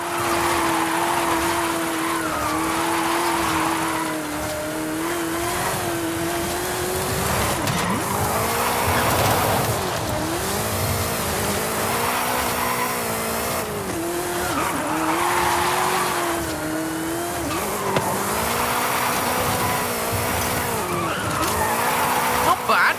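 A 2015 Mustang GT drifting downhill through corners in the Forza Horizon 5 racing game, with a steady loud engine drone and repeated rising and falling tire squeals running throughout.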